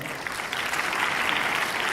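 A crowd claps steadily, a dense wash of applause that swells slightly partway through and holds.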